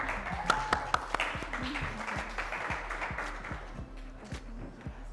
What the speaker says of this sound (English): And a huge round of applause for Nisa.